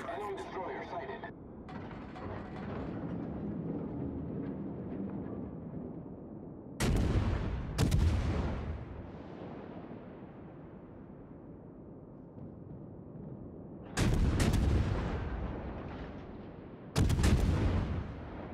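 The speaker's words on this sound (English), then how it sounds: "All stations requesting fire on the designated target." Naval artillery salvos in the World of Warships game: four heavy booming volleys ring out at intervals, each followed by a long rolling decay, over a steady background rumble and game ambience.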